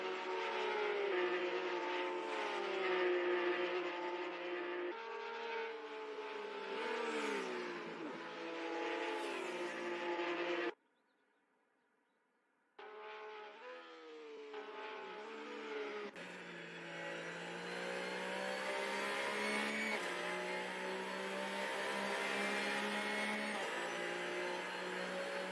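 In a virtual racing game, race cars run a lap, their synthetic engine whine rising and falling through gear changes. Sound cuts out for about two seconds midway, then a louder, busier engine tone continues.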